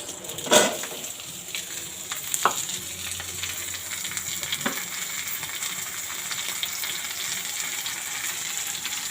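Chopped potatoes and green chilies fry in a pan with a steady close sizzle, broken early by a few louder spatters and stirring clatters.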